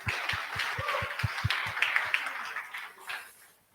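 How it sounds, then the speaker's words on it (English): Audience applause at a Flutter developer meetup: a short round of clapping, fairly distant and thinning out over a few seconds. "Have a big round of applause for him."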